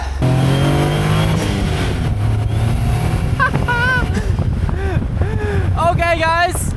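Caterham 170S engine drones close and steady throughout with wind noise, while a person talks over it partway through.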